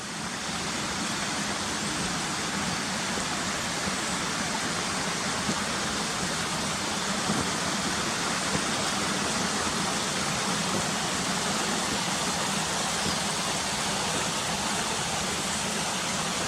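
Ashgill waterfall pouring down in a steady, unbroken roar of falling water, close and loud, with no voices and no change in level throughout.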